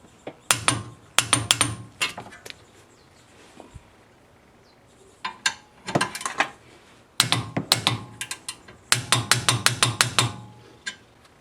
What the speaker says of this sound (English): the guide pins on both front and rear brake pads get torqued to 26 foot-pounds